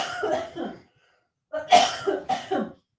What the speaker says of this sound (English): I know I heard the cough